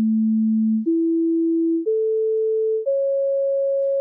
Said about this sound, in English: I've imported a couple of pure sine waves at various frequencies.